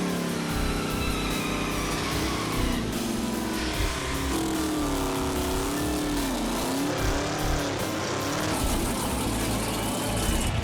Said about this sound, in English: Let's see the burnout.